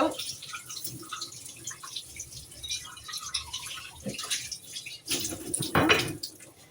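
Kitchen tap running at a sink while dishes are washed, a soft trickling and dripping flow with occasional clinks and splashes, growing louder toward the end.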